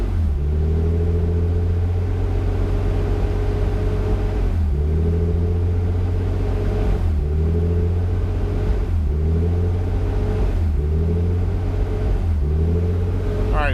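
A warmed-up Nissan 300ZX engine holds a steady, loud idle-to-low-rev drone near 2,000 rpm, with a rhythmic surging pulse that dips and swells roughly every two seconds throughout.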